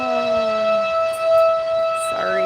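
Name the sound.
town fire siren calling the fire company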